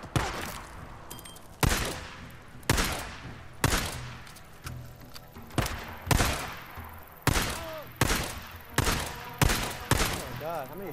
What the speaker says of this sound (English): how many shots does that guy take?